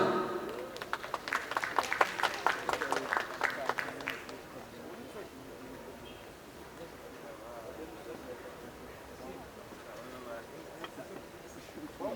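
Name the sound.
audience applause for Scrabble contest winner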